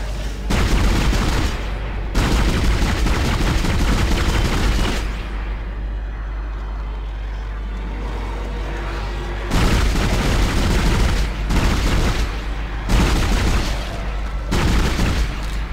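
Gunfire from the sci-fi horror game Dead Space, heavy booming shots in loud bursts separated by a quieter stretch of rumbling ambience, with no talking.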